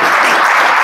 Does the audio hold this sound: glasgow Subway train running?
no